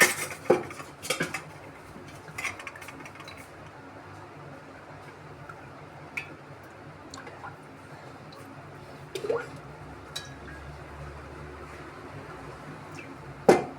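Oil being ladled from a container into a heavy iron kadai in a home kitchen, heard as sparse metallic clinks and scrapes, a few sharp ones near the start and end, over a low, quiet background.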